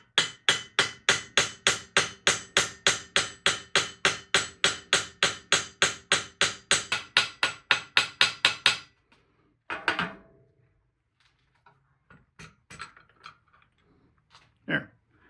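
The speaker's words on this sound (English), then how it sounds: "I'm just going to peen a head onto it" A hammer peens a head onto a steel axe pin clamped in a vise, ringing out about two dozen loud, evenly spaced metallic blows. A few scattered knocks and handling sounds follow.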